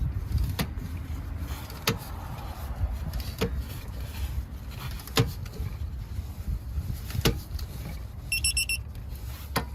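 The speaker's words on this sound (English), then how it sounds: "usually we do it until we hear the continuous beep" Sharp clicks repeat at spaced intervals as a torque wrench tightens brake parts on a 2011-16 Honda CR-V, then a quick run of high electronic beeps from the wrench sounds near the end, close by.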